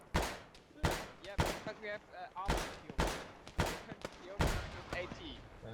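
Grenades exploding on a BTR armored vehicle in Arma 3, a series of about seven sharp, loud blasts at irregular intervals, with voices talking between them.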